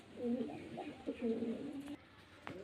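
Pigeons of a fine breeding line coo close by at a home pigeon sale in Beldanga, with a few soft rolling coos followed by a brief rustle. Someone talks faintly in the background.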